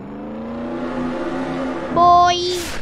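A car engine revs in Roblox Jailbreak, rising in pitch over a sustained drone before a brief high whine and a fading whoosh near the end, loud and close with no talk.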